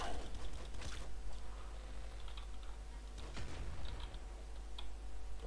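Computer keyboard keys pressed while playing Nuclear Throne, irregular light clicks and taps scattered close to the mic over a steady low hum.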